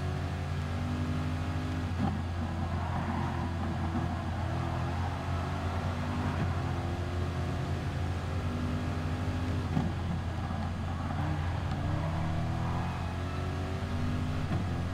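Steady engine drone of a race car drifting in GT Sport, holding a constant revving tone with slight pitch swells across the whole stretch, no speech.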